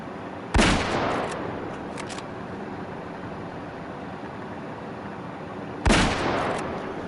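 Gunfire in a video game, two sharp loud shot bursts about five seconds apart, each trailing into a decaying rumble over a steady background hum.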